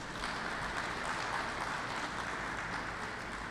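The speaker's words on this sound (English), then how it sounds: "I think that deserves a round of applause" Dense, steady applause from a seated audience at a secondary school football league prize awards ceremony, continuous broadband clapping filling the hall at moderate volume without any voices.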